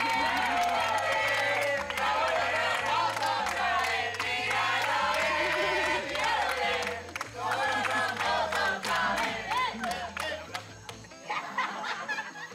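Contestants on the Exatlón sports competition show clap and cheer as a lively crowd, their noise layered over a steady pulsing music bed for the whole stretch.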